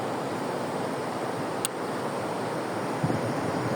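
Steady broadband wash of sea surf and wind at a beach with big waves, loud and continuous throughout, with a brief sharp click near the middle and a soft thump toward the end.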